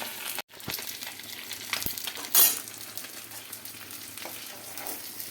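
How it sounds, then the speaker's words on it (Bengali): Khoira fish from a Sundarbans river frying in hot oil in a wok, a steady close crackling sizzle throughout with a few sharp spatter pops and one brief louder burst of hissing midway, no voices. "এইভাবে সব কটা আমি ভেজে নেবো"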